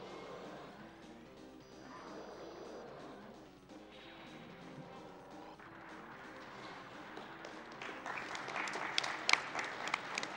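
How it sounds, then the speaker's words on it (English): Audience applause at a live speedrun event, building from a low murmur into louder, denser clapping with scattered sharp peaks toward the end. "Thank you for clapping for that."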